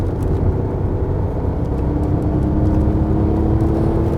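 BMW 8-Series engine pulling hard from inside the cabin, a loud low droning roar with steady road and wind rumble, sustained evenly through the whole stretch without any voices.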